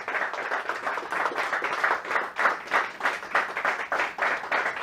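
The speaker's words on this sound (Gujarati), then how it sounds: "ખૂબ તાળીઓ સાથે" Enthusiastic applause from an audience at a book talk show, with clapping swelling in rhythmic waves, steady and fairly close, with no one talking.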